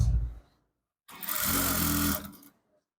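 A sewing machine stitches a men's palazzo trouser in one steady, loud mechanical run of about a second and a half, close by, after a short low sound at the start and with no talking.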